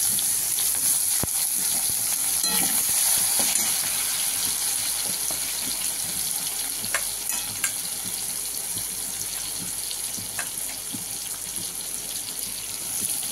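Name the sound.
chopped onions frying and being stirred in pan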